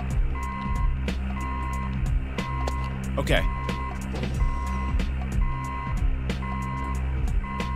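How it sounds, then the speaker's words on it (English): A repeating electronic alarm beeps steadily in the Oni video game, layered over a droning game soundscape with gunfire-like clicks and thumps, and a voice speaks briefly. "he hit the alarm!"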